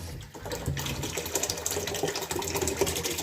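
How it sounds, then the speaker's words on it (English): Pressure-cooked red peas and their liquid poured into coconut milk with thyme and scallion, a close, continuous sloshing pour with soft wet splatters. "So you're going to pour the peas."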